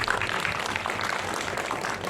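Audience clapping at an Indonesian film press event celebrating the film Pangku and its seven Citra award nominations: a dense, steady patter of many hands held at an even level for about two seconds.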